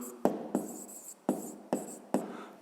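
A pen writes on paper during a physics lesson, with five or six sharp scratchy strokes close by, spaced out with short pauses between them.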